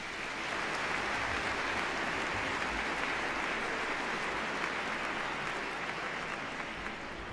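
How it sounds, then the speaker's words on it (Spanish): Steady, dense applause from a large crowd, many hands clapping continuously at an even level for several seconds without letting up. "Vamos, un aplauso."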